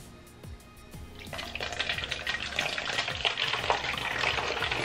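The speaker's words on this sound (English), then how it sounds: "now that we are nice and safe, we're going to add 1 cup of hydrogen peroxide into this." Hydrogen peroxide poured from a cup into a bottle, a steady trickling and splashing of liquid that starts softly and grows louder and busier as the stream continues.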